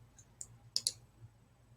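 A computer mouse clicking, faint sharp clicks with a close double click near the middle, over quiet room hum.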